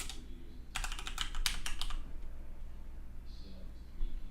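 A computer keyboard is typed on in a quick burst of about a dozen close, crisp clicks, then falls quiet while a voice speaks softly.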